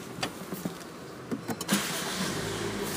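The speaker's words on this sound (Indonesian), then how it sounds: "sekarang coba kita start up mobilnya" A 2020 Honda HR-V 1.8 Prestige with a 1800 cc engine: a few clicks and cabin noises, then the engine starts and settles into a smooth, steady low idle heard from close by.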